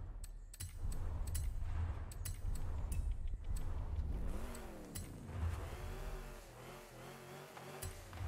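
A supercharged classic Chevy Impala drift build in Forza Horizon 5 revs its engine in a few rising and falling pulls, a low rumbling drone with a whining overtone that sweeps up and down.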